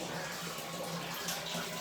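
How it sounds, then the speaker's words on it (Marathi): Water gushes steadily into a container, a broad, continuous rushing splash that holds a constant level throughout, with no clear speech. "आत्ता जस्ट पाणी आलं आहे पाणी भरायचं काम चालू आहे"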